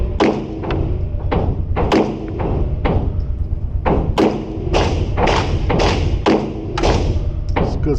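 Repeated pistol shots from a Sig Sauer P320 X5 SXG firing 115-grain ammunition, a rapid series of loud, sharp reports spaced under a second apart across the stretch.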